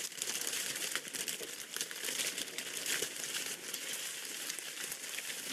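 Loud, continuous crinkling of plastic packaging being gathered up around the edges of a wreath, close up, busy rustle and crackle filling the whole stretch with no speech.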